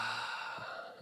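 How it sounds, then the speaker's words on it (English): A soft, slow exhale during a beginner yoga breathing exercise, a quiet breathy sigh heard close up against a faint background. "And then exhale."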